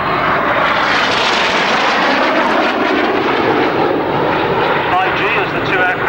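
A pair of jet aircraft roar past at the RAF Finningley air display, a loud continuous broadband engine rush filling the whole stretch, with a commentator talking over the noise.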